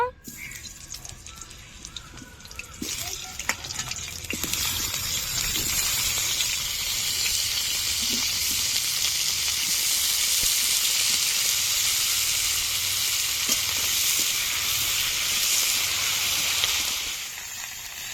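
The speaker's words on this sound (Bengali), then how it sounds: "এখন তুলে নেব ফুলকপি ভেজে নেব" Cauliflower frying in hot oil in a pan, a loud steady sizzle and hiss that rises after a few seconds and holds close up, fading slightly at the end.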